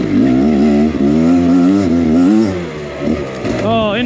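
GasGas EC300 two-stroke enduro motorcycle ridden on a trail, its engine buzzing loud and close with rising and falling revs throughout, pitch swinging as the throttle is worked.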